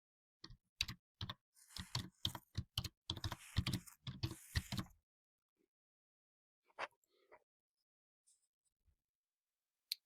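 Fast typing on a computer keyboard as a password is entered, a dense run of close, crisp key clicks for about five seconds, then a few sparse isolated taps after a pause.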